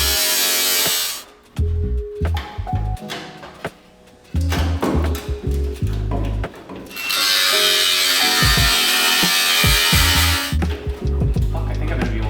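A Milwaukee M18 cordless grinder runs in repeated bursts on a rusty 1968 Mustang A-pillar, a loud, high whine that starts, stops and revs again with short gaps between runs.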